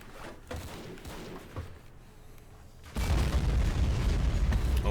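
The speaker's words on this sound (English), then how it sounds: "even at that distance, they've got that artillery zeroed in on Cedric" Heavy artillery fire in a WW1 battle game, first distant thuds over low rumble, then a sudden loud sustained roar of explosions from about three seconds onward.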